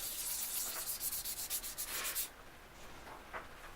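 Steady hand rubbing of a surface to remove cross scratches, a dense rhythmic swishing of strokes for about two seconds, then quieter with a few lighter rubs; no talk.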